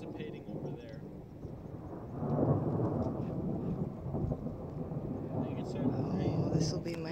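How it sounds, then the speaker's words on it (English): A low, rolling rumble of thunder from a California lightning storm swells and lingers for several seconds, loud and broad, while people talk over it. "this will be my first full-on Cali storm"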